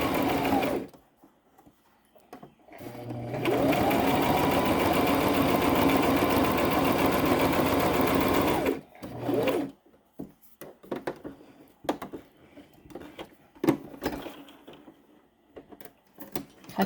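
A sewing machine stitches a fabric mask in one steady, loud, close whir lasting several seconds. Short bursts come before and after, along with clicks and handling noises as the fabric is repositioned.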